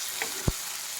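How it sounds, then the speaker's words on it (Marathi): Green chillies sautéing in oil, a short steady hiss of frying close up with one soft knock of a utensil partway through, no speech. "तर 2 मिनिट आता हे पण आपण तेलात परतून घेतले."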